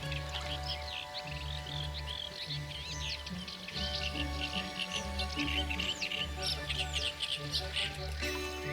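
Birds sing courtship songs at a lake in Romania: many overlapping chirps and trills sound at a moderate distance over a steady low background drone.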